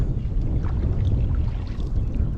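A wooden rowing boat is rowed across village water in Mithmumbari, Konkan, with a low continuous rumble of water and wind around the hull and soft splashes from the oars.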